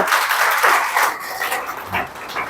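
Students in a classroom or school event clap as two students are called up to the stage, a dense, steady applause that fills the room with no talking over it.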